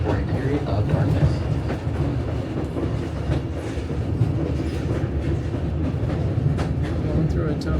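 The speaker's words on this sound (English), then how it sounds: "our train takes us to our first tunnel" White Pass & Yukon Route passenger train near Skagway approaching a 670-foot tunnel, steady loud rumble and clatter of wheels on rails heard from aboard, with faint voices in the background.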